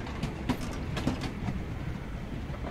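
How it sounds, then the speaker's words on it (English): A train rolls past in the video game VOIDTRAIN. It is a steady rumbling rail sound with faint rhythmic clacks, heard on its own at moderate volume. "You hear that train coming?"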